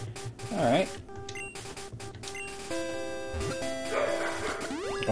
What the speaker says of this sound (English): the dogs are flipping out